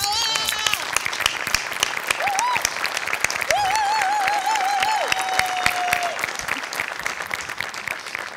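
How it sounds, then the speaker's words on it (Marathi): Sustained applause from a large comedy-show audience giving a standing ovation, dense and steady, with whistles and cheering voices rising over the clapping. "उभं राहून टाळ्या वाजवल्या"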